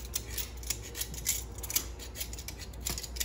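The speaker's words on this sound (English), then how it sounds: "I'm going to work on just peeling the potatoes now" Potatoes are peeled in a kitchen with a hand peeler, giving quick, light scraping strokes in an irregular rhythm, close and fairly quiet, with no one talking.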